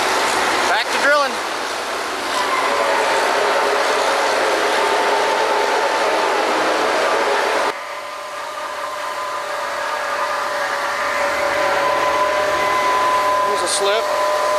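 Steady, loud mechanical roar of a drilling rig working on the Brazelton water well, a continuous drone with faint tonal whines, broken by a short dip in level midway before the drilling noise resumes.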